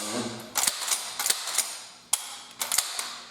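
A 12-gauge shotgun's action is worked by hand, producing a series of sharp, close metallic clacks and clicks in quick bursts separated by short pauses.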